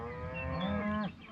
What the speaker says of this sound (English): These cows are an absolute nightmare. You can't hunt around them.